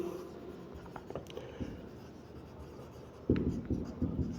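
Chalk or marker scratches across a board during a math lecture, with faint intermittent strokes followed by a firmer burst of quick taps and scrapes near the end, close and fairly quiet.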